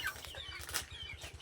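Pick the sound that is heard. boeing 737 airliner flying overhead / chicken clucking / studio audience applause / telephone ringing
chicken clucking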